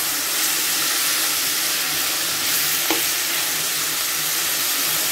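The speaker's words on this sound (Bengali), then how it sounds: "শুকনা মরিচ দিয়ে ভাজছি আমি, হালকা কাঁচা মরিচ দিচ্ছি আর শুকনা মরিচ মিক্স করে শাকগুলো ভাজি করতেছি" Leafy greens sizzle in a pan with dried and green chilies, a dense, steady frying hiss close up and loud throughout, with one brief clink near the end.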